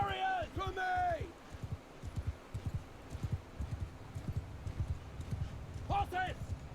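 Horse hooves clop rapidly across the battlefield in Mount & Blade II: Bannerlord, a steady rhythmic thudding of galloping cavalry under shouted battle commands from in-game voices.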